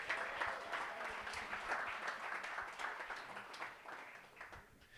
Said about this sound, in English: Give Mr. Valente a round of applause